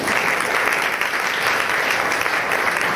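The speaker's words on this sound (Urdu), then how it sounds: "جن لوگوں نے دیے ان کے لیے تالیاں بجائیں" A church congregation applauds during a Sunday service, steady dense clapping from many hands filling the room at a constant level with no talk over it.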